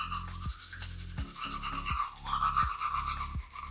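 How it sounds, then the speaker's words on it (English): A regular manual toothbrush scrubs teeth in steady back-and-forth strokes, a close, wet rubbing rhythm of roughly one stroke every half second, with no talking. "First thing I'm going to do is brush my teeth."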